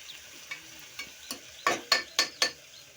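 Spices and ground black pepper fry for cabbage pulao under a faint sizzle, then a spoon scrapes the pan in sharp, quickening strokes, close and fairly soft, with no voices.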